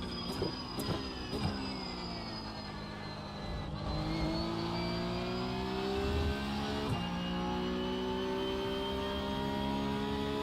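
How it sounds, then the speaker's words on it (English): A Porsche Cup race car engine in the game iRacing drones steadily under a high whine, rising in pitch as it accelerates through gear changes, with a few faint clicks early on. "I'm driving the Porsche Cup car."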